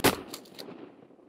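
Shotgun blasts ring out while hunting wood ducks, one sharp close report followed quickly by several more shots that echo and decay across open air, with no voices.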